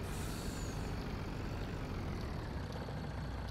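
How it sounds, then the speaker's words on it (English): A logging truck in Farming Simulator 19 churns along a haul road with its wheels spinning, giving a steady, loud, broadband engine and tire roar that holds constant throughout. "You can hear that truck spinning on this road."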